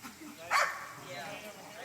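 A dog gives a single sharp bark during a Mondioring obedience exercise involving a decoy, set against steady background noise with a voice talking nearby.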